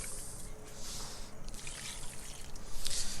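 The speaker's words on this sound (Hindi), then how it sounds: "उसके बाद इसमें पानी डाल देंगे तकरीबन 1 गिलास।" About a glass of water pours and splashes into a pot of chicken karahi in a steady stream, fairly close, with a faint rushing hiss that swells toward the end.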